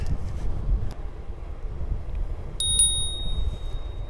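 Two quick bright dings from a bicycle bell on a Ride1Up Roadster V2 e-bike ring out over wind rumble from riding outdoors, the second tone lingering and fading.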